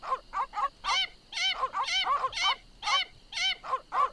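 Several dogs in The Secret of Monkey Island bark in rapid, repeated bursts, a steady run of sharp yapping barks close up and alone.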